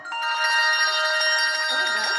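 Handbells shaken by treble ringers in a handbell workshop, a bright sustained shimmering ring with a steady tremolo that holds evenly throughout, loud and close, with faint voices underneath near the end.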